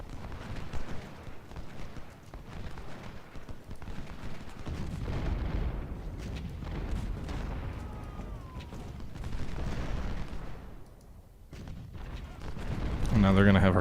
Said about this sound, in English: They're going to get hit from the rear with artillery.